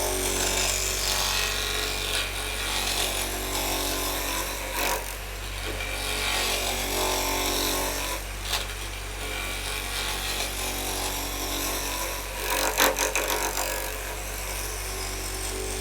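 A heavy straight scraper rubs against spinning wood on a lathe, giving a continuous, close, rasping scrape with slight surges and a steady low motor hum underneath.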